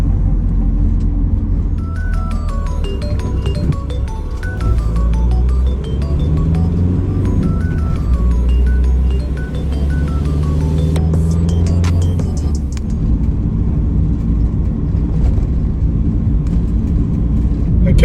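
A Peugeot 207 Verve hatchback drives along, its engine hum and road rumble loud and steady from inside the cabin, with gear changes and rising revs heard throughout.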